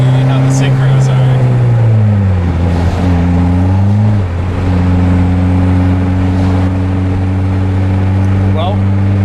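A PT Cruiser GT with a slipping clutch that struggles to hold boost accelerates through the gears; a loud, close engine drone climbs, dips at a shift, then settles into a steady, even pitch.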